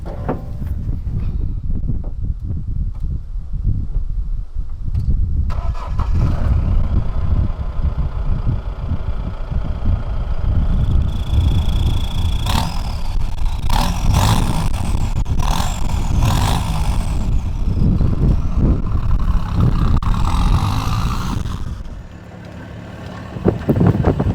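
A Mahindra Roxor utility vehicle with a 5-speed manual runs steadily close by, its engine rumble mixed with constant wind buffeting across the microphone for most of the stretch, easing briefly near the end.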